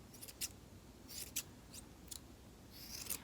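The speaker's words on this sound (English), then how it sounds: "You're just gonna cut the ends of this yarn." Scissors snip the yarn ends of a pom pom, a series of quiet, crisp cutting clicks in an uneven rhythm, close up and alone in a quiet room.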